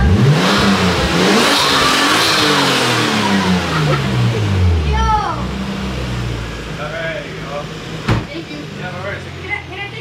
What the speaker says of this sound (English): I only want to record my revs